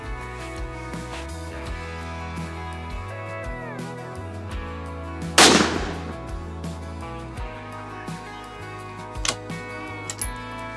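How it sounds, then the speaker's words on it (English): A Howa .223 centrefire rifle fires at a steel plate outdoors. One loud, sharp crack stands out, followed later by a fainter report, all over steady background music. "just going to do a few shots on a steel plate just to sight this thing in"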